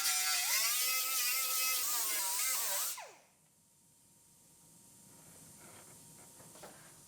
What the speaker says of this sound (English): Grind our spot welds down.